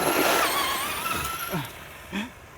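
A Traxxas Slash 2WD XL-5 RC truck on a 2S LiPo races over dirt and gravel, its high electric motor whine steady and close, with a couple of brief swooping pitch shifts as it turns or throttles.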